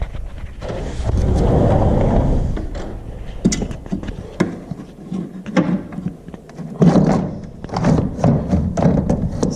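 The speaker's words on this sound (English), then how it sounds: "So the screen door definitely need to be fixed." A screen door in need of repair banging and rattling, first a sustained rough scrape, then a run of uneven thuds, taps and clatters, close and loud, with a little background noise.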